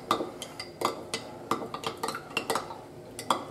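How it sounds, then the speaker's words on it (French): A spoon stirs a hot home remedy for coughs and bronchitis in a small pot, giving a series of quiet, irregular metallic clinks and scrapes close by. "Et là, il faut mélanger."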